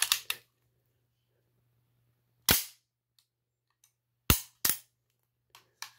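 A Walther P38 pistol's slide snapping forward as the slide release drops it, heard as a few sharp, close metallic clacks spread across a quiet stretch, each one loud and brief with silence between.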